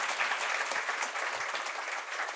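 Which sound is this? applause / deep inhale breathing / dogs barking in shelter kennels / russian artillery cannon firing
applause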